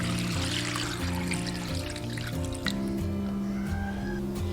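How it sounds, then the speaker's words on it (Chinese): Water poured into a basin over two handfuls of vermicelli noodles to soak them soft, a steady close pour lasting throughout with a few drips, under a continuous hum. "盆中加入2把粉丝，用清水提前给它泡软。"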